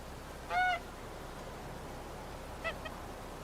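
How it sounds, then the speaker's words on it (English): Geese in the village of the medieval farming game Medieval Dynasty honk twice, a short nasal honk followed a couple of seconds later by a fainter one, over a quiet steady background. "We're getting some geese for the village."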